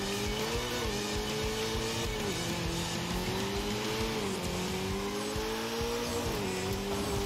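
A Renault 8 Gordini in Forza Horizon 5 sweeps through a hairpin curve, its engine droning loud and steady with the pitch dipping and rising as it shifts through the bend, under a faint hiss of tyres.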